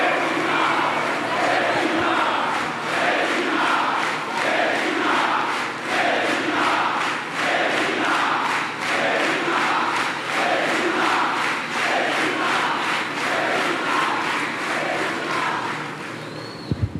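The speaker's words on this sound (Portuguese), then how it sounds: "Salva de palmas para o meu grande vice." At a party congress, a large crowd claps and cheers in a loud rhythmic wave, with chanting voices pulsing steadily for over fifteen seconds before tapering off at the end.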